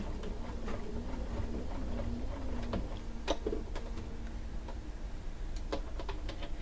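Quilt fabric is fed through a sewing machine from the edge, giving a soft, close motor hum with quick ticking stitch clicks. Sharper taps and knocks join in during the second half.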